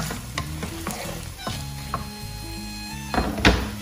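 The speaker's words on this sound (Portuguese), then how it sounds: "Eu gosto de dar uma refogada na carne." Chopped onion and ground beef sauté in a pan, a steady sizzle broken by several utensil knocks and scrapes against the pan.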